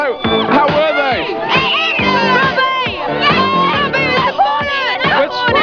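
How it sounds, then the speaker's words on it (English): A dense crowd of teenage fans at a 1994 Take That tour stop screams continuously at high pitch, shrill overlapping shrieks and shouts rising and falling without pause, loud and close throughout. "it's teeming with screaming teens"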